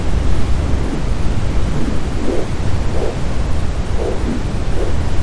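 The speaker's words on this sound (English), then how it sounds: "Listeners, please hold for a moment and enjoy this lovely static sound." Loud, steady static hiss fills the whole stretch without a break, a dense continuous rush of noise with faint low swells rolling underneath.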